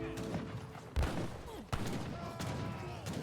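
Rapid shotgun volleys and thuds in an Age of Empires III battle, overlapping bursts of gunfire and impacts with sharp louder blasts near one and two seconds, dense and continuous over game ambience.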